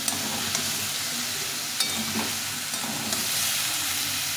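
Mixed vegetables frying together in a little oil for a Bengali shukto, a steady close sizzle with occasional stirring clicks from the pan.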